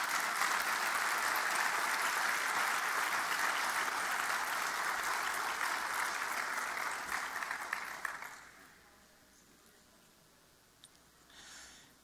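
Audience applause for award winner Jung Jun Kim, Director at the Seoul Metropolitan Government, at the WITSA Awards ceremony: a sustained dense clapping from a hall crowd for about eight seconds, then fading to quiet room tone.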